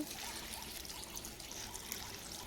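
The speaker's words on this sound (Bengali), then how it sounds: "কলের জল দিয়ে আরো একবার ধুয়ে নিচ্ছি" Tap water poured from a mug to rinse leafy greens, a soft steady trickle and splash running continuously and fairly faint, close by, with no voices.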